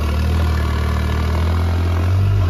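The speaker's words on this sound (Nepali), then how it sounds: "ल ट्र्याक्टरले चाहिँ यसरी जोड्दैछ साथीहरु" A tractor engine idling and chugging loudly nearby with a steady low throb while preparing a rice paddy for planting, rising slightly at the end.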